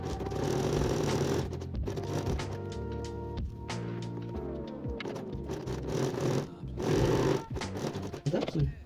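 A domestic sewing machine stitches an apron along the presser foot in bursts of whirring needle runs with brief pauses, up close, with someone talking quietly between runs.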